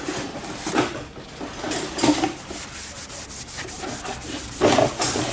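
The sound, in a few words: wiping fingerprints off a stainless exhaust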